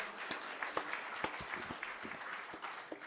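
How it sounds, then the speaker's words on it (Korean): Scattered, loose clapping from a church congregation during a Sunday service, a steady patter of hand claps with a few sharper individual claps standing out. "하나님께 영광의 박수 올려드립니다"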